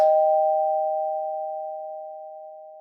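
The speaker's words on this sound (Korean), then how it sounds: "하지만 대화는 초인종 소리에 끊겼다." A doorbell gives a single clear electronic chime that starts sharply and then rings out as a steady tone, fading slowly over a few seconds with nothing else heard.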